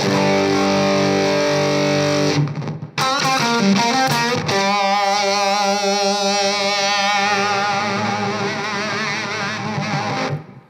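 Thick, sustained fuzz distortion from an electric guitar through a Spaceman Nebula Fuzz pedal in infinity mode, droning without decay, with a warbling, wavering noise swelling behind it before it cuts off.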